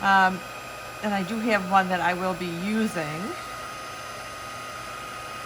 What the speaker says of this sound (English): You put the powder on and you melt it with the heat gun, and you just kind of go over it.